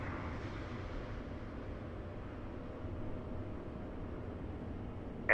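A steady, even roar from an Airbus A220-300's engines in Microsoft Flight Simulator fills the whole stretch, a constant broadband drone with a brief faint click near the end.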